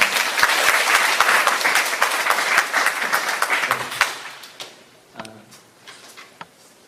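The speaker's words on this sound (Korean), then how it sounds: "이 시간 우리 손 목사님 좋은 말씀 들려주시려 하는 의미로 크게 박수로 환영하도록 하겠습니다." An audience at a youth Bible camp opening service claps loudly to welcome a pastor, a dense burst of applause that tapers off after about four seconds into a few scattered claps and quiet room noise.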